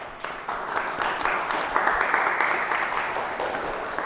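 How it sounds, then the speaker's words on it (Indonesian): An audience applauds a best-scoring student group in a classroom lesson, steady clapping from many hands that swells slightly and holds for several seconds, fairly close and without talk. "Silakan beri aplaus."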